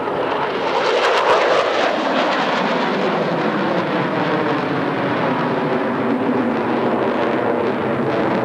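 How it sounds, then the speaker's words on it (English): Twin-engine F7F airplane in a high-speed vertical climb and roll at an air show, a loud, continuous broadband roar that peaks early then holds steady as the aircraft passes overhead. "From your left, the high-speed vertical climb and roll."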